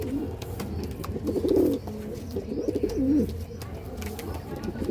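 A pair of Pashchima Bhura pigeons coo in repeated soft, low, rolling calls, with two distinct bursts close by against a steady background hum.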